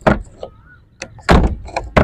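Someone works the doors of a modified Suzuki FX car, giving several sharp, close door clunks and slams with short pauses between them and no talking.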